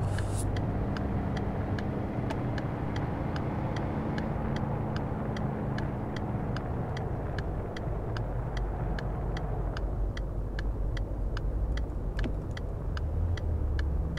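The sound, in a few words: car driving in video game City Car Driving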